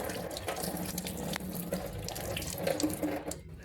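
Water runs from a tap into a washbasin as hands are washed, a close, steady splashing stream with small drips and bubbling, no voices present.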